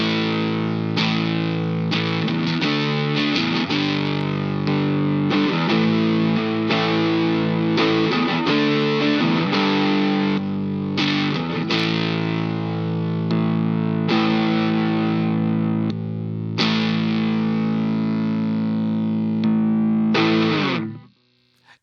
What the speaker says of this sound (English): crunch is an asymmetric soft clipping drive like the SD1 and countless other pedals